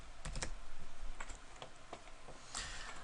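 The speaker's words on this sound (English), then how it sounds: "Why can't I type today?" Keys clatter in short, irregular bursts on a computer keyboard, close and fairly quiet, with pauses between the clusters of strokes.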